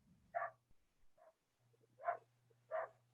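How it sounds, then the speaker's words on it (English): Several dogs bark around a neighbourhood, a handful of short sharp barks at moderate distance in an uneven rhythm, with a faint steady hum underneath and no talk. "Them dogs is going crazy."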